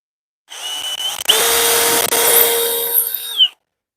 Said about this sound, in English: you can drill and then drive right afterwards